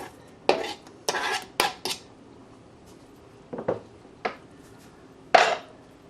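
Sausage goes into a pot of crowder peas with a series of sharp metallic clinks and scrapes of a spoon against the pot, separated by quiet gaps, with no one talking.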